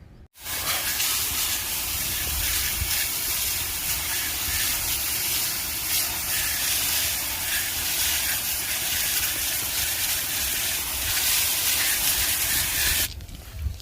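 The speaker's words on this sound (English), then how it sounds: "So I'm gonna rinse this off first, then I'm gonna spray this on and agitate it" Hard, steady spray hiss, most likely a pressure rinse hitting a vehicle wheel treated with Super Clean All Wheel Cleaner, runs close and loud for about thirteen seconds and then cuts off abruptly.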